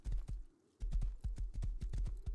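Horse hooves clip-clop in a steady, quick rhythm of close, sharp thuds in the survival video game Rust, broken by one brief pause, with no talking.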